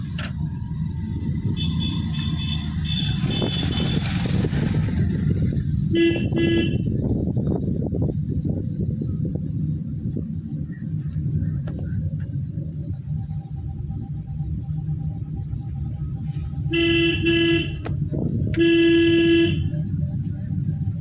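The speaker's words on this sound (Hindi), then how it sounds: "हॉर्न" During a car driving lesson, a car horn honks in several short bursts amid a continuous low engine and traffic rumble heard from inside the vehicle.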